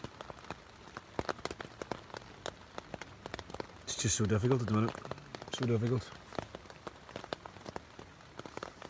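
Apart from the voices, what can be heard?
rain falling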